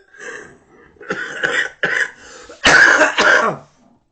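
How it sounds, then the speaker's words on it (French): Several harsh coughs and throat-clearing bursts from one person at a fan's reaction after an OM–PSG football match, close and loud, coming in uneven clusters with brief gaps. "Vous me faites tousser."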